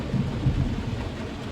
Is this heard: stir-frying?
no